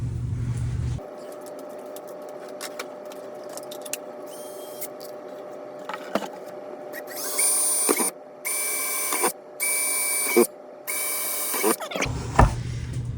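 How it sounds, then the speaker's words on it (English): Several bursts of a high-pitched whirring power drill boring holes in a DIY digital game board, spinning up in short runs of a second or two, with brief pauses between. "So now we're going to drill these out"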